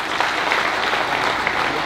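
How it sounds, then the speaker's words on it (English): A community gathering's audience breaks into brief, steady applause for the Ministry of Health, a dense wash of many clapping hands heard from a short distance. "Can we clap for the Ministry of Health?"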